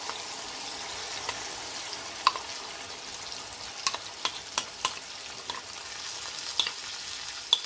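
Chutney is stirred into a frying pan after the stove is switched off, giving a faint steady sizzle with scattered light clicks and scrapes of the spoon, close and quiet.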